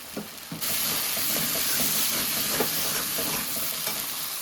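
Spices, tomato and potato sizzle steadily in a pan as they are sautéed, a loud continuous frying hiss starting abruptly and carrying faint stirring scrapes throughout.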